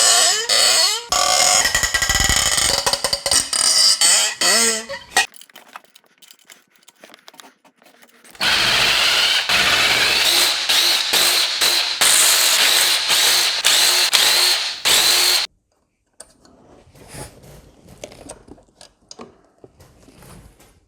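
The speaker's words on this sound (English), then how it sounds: "We'll just continue until all the bolts are loose." A power tool loosening BMW M51 cylinder head bolts on a Range Rover P38 engine, in loud whirring bursts separated by quiet pauses, with lighter clicks near the end.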